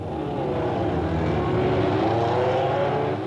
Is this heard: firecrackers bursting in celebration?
no